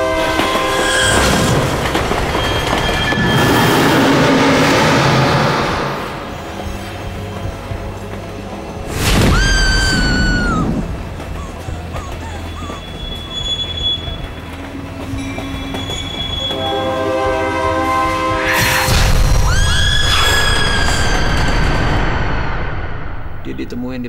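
A train rumbles along the rails with clattering wheels, two loud horn blasts sounding several seconds apart, and metallic squeals rising between them.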